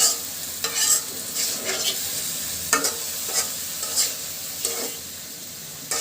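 Papaya being stirred and fried in a pan for a fish curry, with a steady sizzle under repeated scraping strokes of a spoon that land every second or so.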